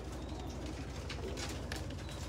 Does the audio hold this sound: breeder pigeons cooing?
yes